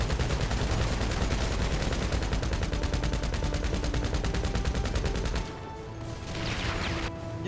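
Heavy video game gunfire in a mansion attack scene, with dense sustained automatic bursts that fire continuously, then drop off abruptly into quieter scattered shots near the end.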